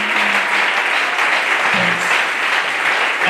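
A church congregation claps loudly and continuously in acclaim during a French-language service, a thick wall of applause with faint scattered shouts of cheering underneath.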